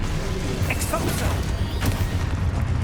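An Expulso blasting spell going off in Hogwarts Legacy, a dense, loud rumbling burst of explosion and debris that fills the whole moment.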